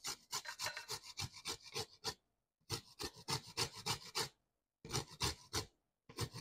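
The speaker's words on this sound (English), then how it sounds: "Into this mixture, I'm going to be grating the zest of my lemon." Lemon zest is rasped on a grater for a fruit cake, heard as three bursts of quick rhythmic scraping strokes, close and clear, separated by short pauses.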